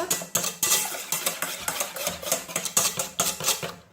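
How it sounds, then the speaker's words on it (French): A whisk beating coconut cake batter in a bowl until smooth, making quick, steady scraping and clinking strokes at close range, with no talking. "on fouette bien jusqu'à ce que ça soit homogène"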